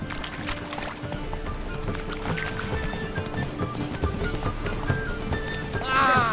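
A horse galloping in The Witcher 3, quick rhythmic hoofbeats clopping steadily at close range over a background bed, with a brief whinny-like sound near the end.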